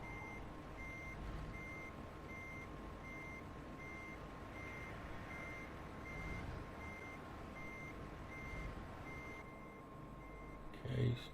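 A heavy truck in American Truck Simulator backs a trailer into place, its steady reversing beeps repeating at an even pace over a constant engine drone, with a short clunk near the end.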